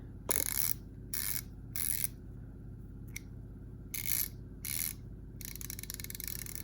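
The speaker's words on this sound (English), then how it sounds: "Push button, so a quick release style ratchet. Really, really fine tooth." A Nepros ninety-gear quick-release ratchet with a push button and very fine teeth, heard in several short bursts of rapid, dense clicking with brief pauses between them. The clicking is close and alone, and a longer run of clicks closes the passage.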